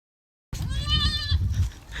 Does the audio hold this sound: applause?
no